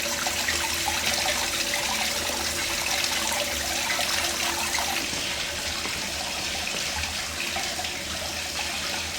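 Water from a homemade keg washer pump recirculates through a barrel, a steady loud rushing and splashing that runs without pause from start to finish.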